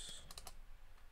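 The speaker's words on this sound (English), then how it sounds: "I want to type really quick." Quick burst of typing on a computer keyboard, several rapid close key clicks in the first half second, then a fading low background hum.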